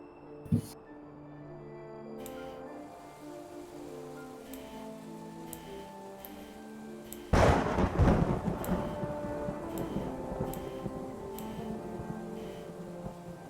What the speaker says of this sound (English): The weather is particularly foul today. Storms have moved in.